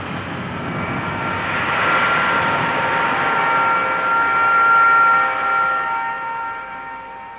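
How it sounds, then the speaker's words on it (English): Staggered explosive blast bringing down limestone in a quarry, heard as a broad, sustained roaring rumble that swells and slowly fades over several seconds, loud and distant with no voices. "The explosion is staggered, with a fraction of a second between the detonations in one hole and the next."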